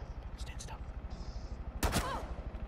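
Gunfire in Rainbow Six Siege, a sharp loud shot burst near the end, with fainter in-game sounds and a player talking over it.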